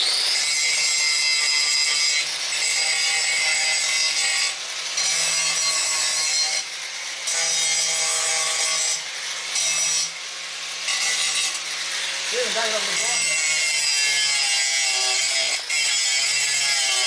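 Lawn mower blades being cleaned up with a tool, a steady abrasive grinding or rasping that runs continuously with brief dips, loud and close, with no talk.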